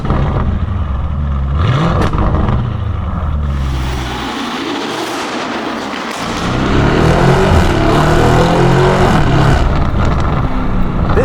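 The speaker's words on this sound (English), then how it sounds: "This sounds like we're doing absolutely insane speeds, but we're driving 66 kilometers per hour." A loud Novitec-tuned Lamborghini Urus SUV engine roars steadily while driving at low road speed, dipping briefly then swelling back to a heavy, booming drone, with no one talking.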